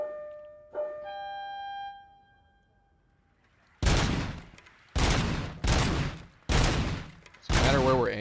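Several loud bursts of automatic gunfire at a shooting range in the RoboCop Rogue City video game, coming after a fading electronic tone and chime, with short pauses between bursts.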